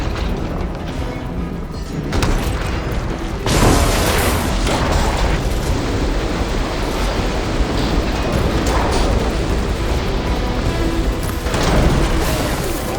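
Ignited ammo explodes in Horizon Forbidden West with a series of loud booming blasts and crashing bursts, rolling one into the next over a dense, rumbling roar.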